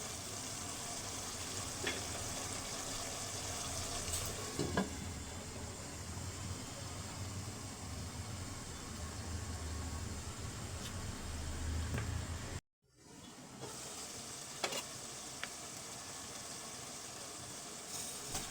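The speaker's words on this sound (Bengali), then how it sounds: "চার থেকে পাঁচ মিনিটের মতো চালগুলো মাংসের সাথে কষিয়ে নিতে হবে" Rice grains and meat frying together in oil and spices for khichuri give a steady, fairly quiet sizzle with faint scrapes, briefly cut by a short gap before continuing much the same.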